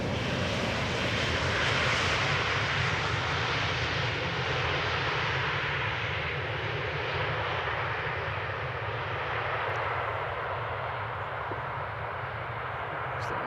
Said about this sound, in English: No reverse for quiet landing.